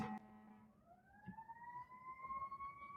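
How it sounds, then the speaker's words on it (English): A distant ambulance siren passes outside, its wailing two-tone pitch rising and holding faintly for a few seconds behind a quiet indoor room tone. "I don't know if you guys hear this, it's an ambulance."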